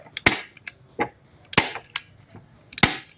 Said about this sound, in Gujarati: આમાં આપણી ગન સ્ટેપલર ઊંચી ખીલી મારીને બતાવશે